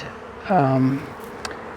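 A single honey bee buzzes close by for about half a second at a home beekeeping yard, a short rising drone that fades out, followed by a faint tick.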